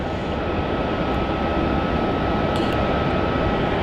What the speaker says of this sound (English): So Garuda should be turning on runway 27 now.